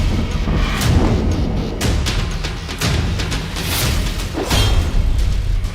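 Explosions from Iranian ballistic missile strikes on Israel: repeated booming blasts and sharp cracks follow each other over a dense, loud rumbling roar, with no voices heard.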